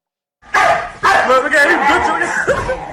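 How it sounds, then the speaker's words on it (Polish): A small dog in a film scene yaps in quick, sharp barks and whimpers, close and loud, mixed in with excited voices. "Milusi uroczy piesek, nikomu by krzywdy nie zrobił"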